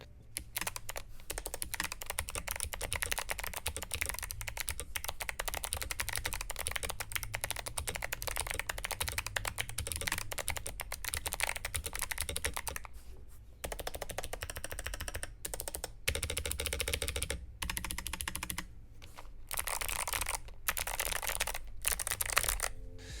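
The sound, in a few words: mechanical keyboard clicky switches typing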